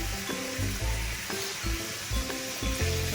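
Onion and tomato for tondekayi chutney fry in a pan with a close, continuous sizzle, broken by soft low thumps as the mixture is stirred.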